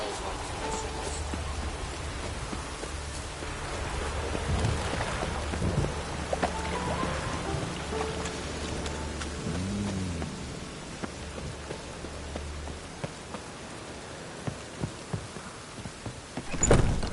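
Steady rain in The Witcher game world, a continuous hiss with faint low rumbles like distant thunder, lasting throughout and ending with a brief louder burst.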